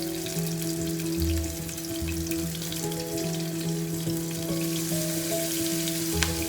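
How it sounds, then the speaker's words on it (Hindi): Seekh kebabs fry in a pan with a steady broadband sizzle and bubbling oil, holding continuous and close throughout with faint clinks and tonal kitchen hum beneath. "इसी तरह हम सारे कबाब बनाकर फ्राई करते जाएंगे"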